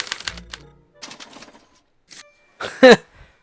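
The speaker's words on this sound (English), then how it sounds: "they're relayed to this special typewriter, which prints out a punch card that represents the subject's mind map" A special typewriter in the Back to the Future game prints out a punch card, giving a few short clacking bursts and ending in a louder mechanical rattle, with brief pauses between.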